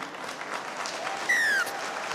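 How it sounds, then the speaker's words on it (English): Steady crowd applause fills a rugby league stadium at the 2021 Rugby League World Cup match New Zealand v Lebanon, a continuous wash of clapping, with a short whistle cutting through midway. "So the applause from the fans here."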